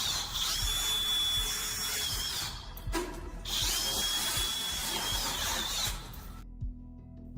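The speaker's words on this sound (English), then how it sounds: "staff began drilling through the lock to grant them access" A power drill bores through a door lock, its steady high-pitched whine running loud and close with brief pauses and restarts before cutting off near the end.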